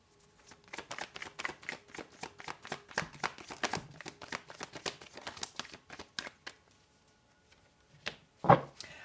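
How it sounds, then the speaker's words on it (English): Tarot cards riffled and shuffled in quick, papery bursts, followed by a pause and then a single louder slap as a card is drawn and set down, close and alone without talk. "Now I'm going to pull out a couple more cards just to close this off for you."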